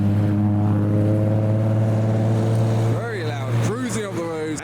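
A loud Nissan Skyline R33 drones past with a deep, steady engine note, then rises and falls in a few sharp revs toward the end, while people talk over it at a car meet.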